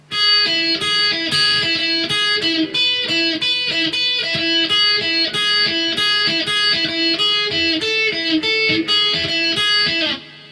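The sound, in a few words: second guitar part played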